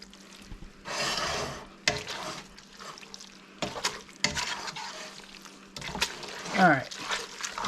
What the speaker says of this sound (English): So we're going to stir up the spaghetti noodles. Gonna mix that all together.